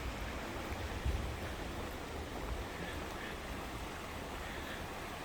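A small creek near a backroad in Whitwell, Tennessee, flows in a faint, steady wash of water noise with no voices heard.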